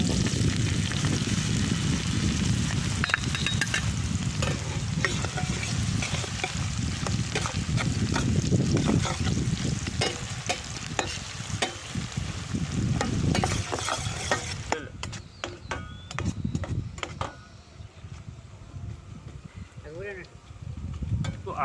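Onion and whole cumin frying in hot oil for a Rajasthani-style besan dhokli curry, a steady loud sizzle with stirring scrapes throughout, quieting somewhat in the final seconds.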